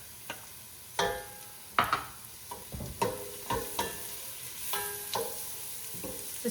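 Garlic frying in a pan of corned beef, cabbage and potato soup sizzles softly and steadily, with a series of sharp utensil taps and scrapes spaced irregularly over the hiss.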